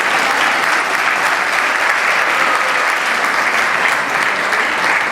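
Audience applause fills a Christmas concert hall, a dense, steady wash of clapping from a large crowd that carries on without a break from start to finish.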